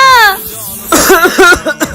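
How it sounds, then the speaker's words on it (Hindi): Coughing set off by a prank spray: a young voice, probably a boy's, lets out a short cry, then a string of four or five sharp, close coughs in quick, uneven bursts. "अच्छा तो इस स्प्रे से खांसी होती है।"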